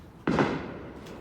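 A single loud firework boom bursts out and rolls off into a long, fading rumble, with a faint second pop near the end.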